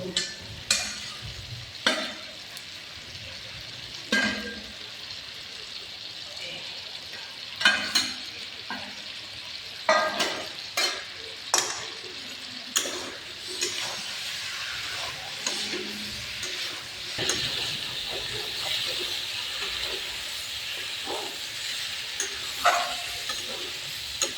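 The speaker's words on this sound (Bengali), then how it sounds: "মাংসের সাথে এখন এটা ফুলকপি আলু দিয়ে দিব, কিছুক্ষণ কষানি করবো।" Chicken pieces with cauliflower and potato sautéing in a pan, stirred now and then, giving a steady close sizzle broken by irregular scraping and clacking strokes of the spoon, with no one talking.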